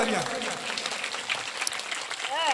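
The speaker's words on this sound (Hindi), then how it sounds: "जोरदार तालियां" An audience at a village religious discourse gathering claps under a speaking voice, with tonal talk and a few sharper sounds rising through the steady clatter.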